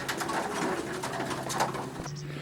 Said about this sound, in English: this pigeon is a magnificent channel pigeon